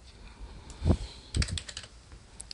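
A few quiet keystrokes on a computer keyboard as a year is typed into a form, with two short bursts of clicking and no talking.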